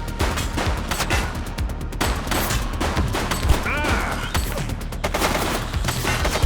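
A suspect opens fire in the police video game The Precinct, with dense, rapid bursts of loud gunfire crackling almost continuously and sharp individual shots punching through the volley.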